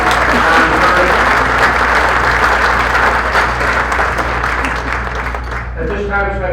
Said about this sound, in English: We have another round of applause for our Hall of Fame inductee, Don McCurgan.